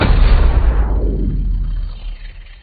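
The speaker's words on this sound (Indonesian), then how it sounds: "Baku tembak pun terjadi hingga banyak korban yang berjatuhan." A burst of gunfire in a film shootout: one loud, sharp blast at the start whose booming tail rolls away and fades over about two seconds.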